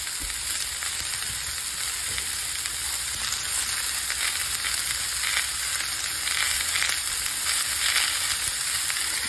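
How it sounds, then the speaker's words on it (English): Pork hock and greens cooking in a pot for a Georgia meat-and-three dinner give a steady, loud sizzle and bubbling hiss throughout, with faint stirring clatter and no talk. "So I'm gonna go ahead and add in my pork hock here. Grab my greens."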